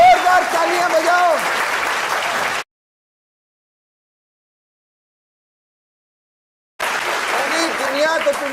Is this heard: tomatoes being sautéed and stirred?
no